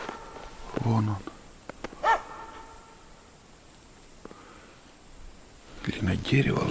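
A dog barks somewhere in a forest with a few short, sharp yelps that sound somewhat distant. A person talks at times over a quiet, windy background.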